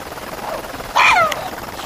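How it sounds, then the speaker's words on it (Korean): A camera drone flying near chimpanzees in forest makes a whining rotor buzz, faint at first and then swelling into a louder pass midway before easing off again, with no speech. "바로 제작진이 띄운 무인 항공기 드론 때문입니다."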